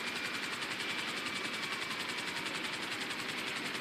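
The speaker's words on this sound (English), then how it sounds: "I got the Frogger helicopter." A Frogger helicopter in the video game GTA 5 flies with a steady, loud rotor and engine drone that holds evenly throughout, with a faint rhythmic pulsing of the blades and no talking over it.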